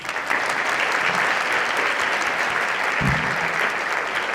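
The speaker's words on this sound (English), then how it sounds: "Let's give this amazing group one more round of applause." An audience at a Fort Worth women's awards luncheon gives a sustained round of applause, a dense, steady wash of clapping that holds at an even level throughout, with a slight swell near the end.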